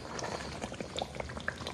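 A pot of cassava leaf soup simmers quietly, giving soft bubbling and small liquid pops at a low, steady level close by, with no one talking.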